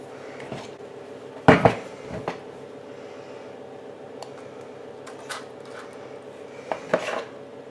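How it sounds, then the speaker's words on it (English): Spoon and bowl sounds while pistachios are folded into cake batter and spooned into paper cases: sparse clinks and scrapes with a couple of louder knocks, close and alone. "now I'm just going to fold in the pistachios before I spoon the mixture into the cases"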